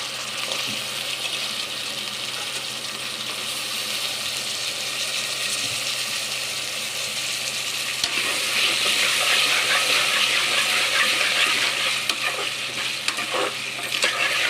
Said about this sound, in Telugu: దీని ఒక 5 మినిట్స్ బాగా మనం ఆయిల్లో ఫ్రై చేసుకున్నాము ఆలుని